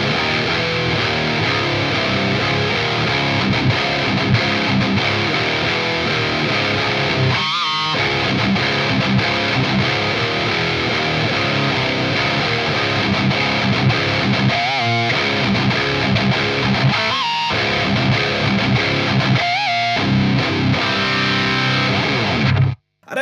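A high-gain electric guitar through a Crab Brown Eye amp with a noise gate plays a thick, distorted, chunky riff, loud and continuous, with brief gated gaps where it cuts to near silence before cutting off at the end.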